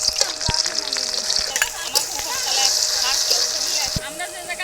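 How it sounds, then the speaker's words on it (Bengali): Onion and garlic fry in hot oil in a kadai wok for a chicken curry: a continuous bright, close sizzle with occasional stirring clatter, and a voice talking over it. "পেঁয়াজ রসুন হালকা ভাজা হয়ে গেছে,"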